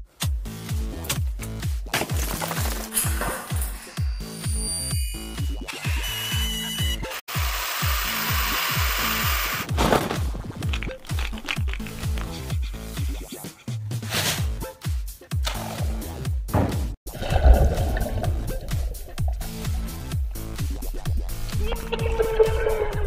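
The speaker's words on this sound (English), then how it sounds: "While working on Ivern, I built this Foley prop called the Creaker. It's just 2 pieces of wood, 2 hinges, and a rope" Wooden creaks and knocks from a handmade Foley prop built from two pieces of wood, two hinges and a rope, worked in a dense run of close, uneven strained groans and clunks that continues throughout.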